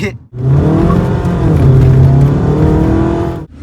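Stage 5 custom-turbo 2.0-litre diesel Skoda Laura engine roaring loud and close, a sustained hard rev with a deep, strained growl held for about three seconds before cutting off.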